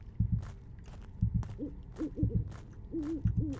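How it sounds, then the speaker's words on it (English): Owl hooting in the video game Witch Hunt, a series of low, rounded hoots repeating in short pairs and runs over a quiet ambient background, moderately close and alone without speech. "Hello, Mr. Owl."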